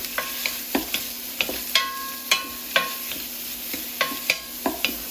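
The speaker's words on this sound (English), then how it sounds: "When it's fully heated, and put your beef and stir fry." Beef stir-frying in a hot pot for Korean spicy beef soup, with a steady sizzle broken by sharp, regular scrapes and clacks of the utensil against the pot, close and fairly loud, no voices.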